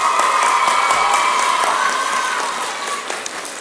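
A school audience applauds students and a principal with sustained, dense clapping that stays loud and steady, then eases slightly toward the end. There is no talking over it.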